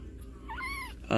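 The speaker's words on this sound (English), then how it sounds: "I just find it interesting that Batman is back here with the kitties" Young kittens make a short meow that rises and falls, close and brief, with a faint bit of background voice around it.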